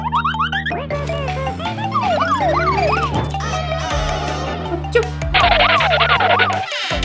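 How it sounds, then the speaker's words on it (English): A cartoonish ambulance siren wails in rising and falling sweeps over bright, busy music, loud and close throughout. "Ambulance!"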